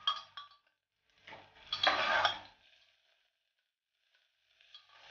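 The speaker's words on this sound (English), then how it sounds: "Then I'm now going to saute this for a minute or two till the garlic pieces are" Garlic and green chilies sauteing in a pan, with a short clatter of utensil on metal and a brief burst of sizzling stirring up close, then near silence.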